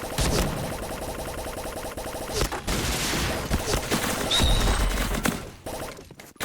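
A Snow Ball Blaster toy gun fires in quick repeated pops, dense and continuous over several seconds at moderate loudness, with clattering and game-like background noise mixed in.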